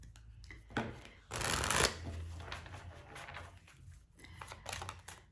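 Tarot cards handled close up: a brisk riffle-like shuffle in the middle, surrounded by soft slides, flicks and taps as cards are moved and set out, quiet overall with no talk.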